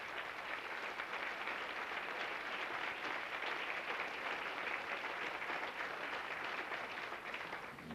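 A crowd at a high school athletics, activities and fine arts banquet applauds, a steady, even wash of clapping that holds for several seconds at fairly low volume before tapering off slightly at the end.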